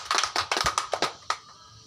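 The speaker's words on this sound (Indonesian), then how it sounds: "Mari kita berikan tepuk tangan untuk Tisha" A classroom of children applauding for a classmate: a short burst of scattered, uneven claps, fairly close and moderately loud, thinning out to a final clap before fading.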